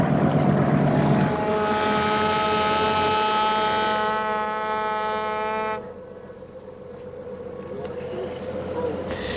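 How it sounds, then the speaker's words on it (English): A lobster boat horn on Monhegan sounds one long, loud, steady blast for several seconds to start the trap day race, then cuts off, leaving a low engine rumble. "The horn just blew."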